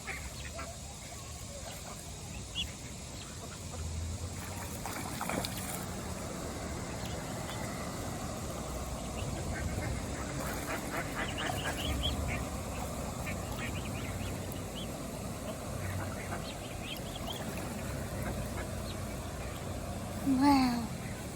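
Ducks quack now and then at a busy duck pond with swans, soft and somewhat distant calls over steady outdoor ambience, with faint voices in the background.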